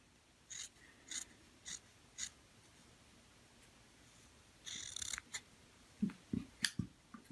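Scissors snipping cotton wick for a vape RDA, a series of short, quiet, crisp clicks spaced about half a second apart, then a brief flurry of rustling and a few sharper cuts, close and faint.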